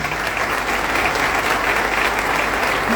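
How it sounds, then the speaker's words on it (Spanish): Sustained, loud audience applause at a book fair in Berazategui after a talk by historian Felipe Pigna, a dense even roar of many hands clapping, with no voices over it. "Muy fuerte el aplauso para Felipe Piña en la Feria del Libro de Verazategui"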